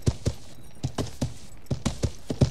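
A horse's hooves clip-clop in the medieval video game Life is Feudal, a steady walking rhythm of sharp, close hoofbeats heard alone.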